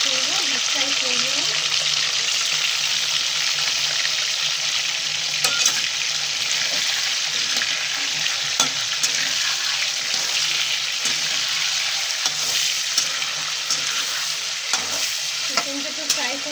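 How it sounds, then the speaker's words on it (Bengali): Chicken pieces deep fry in hot oil, giving a loud, dense, continuous sizzle and crackle heard close up, with occasional faint clinks of a utensil and a low murmur of voices in the background. "সুন্দর করে ফ্রাই করে নিচ্ছি"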